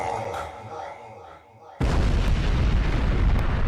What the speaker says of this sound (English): And I can control the explosion.